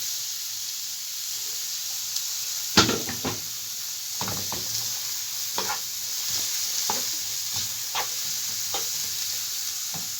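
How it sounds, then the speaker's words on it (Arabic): Onion fries in a heated pan with oil, a close, steady hissing sizzle punctuated by several sharp utensil scrapes and stirring clatters, no voices. "ناخذ المقله نشعلوا عليها العافيه ونديروا البصيله ديالنا"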